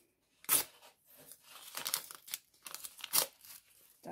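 Crinkly plastic rustling and tearing as a packet is pulled open, in several bursts with a couple of sharper crackles.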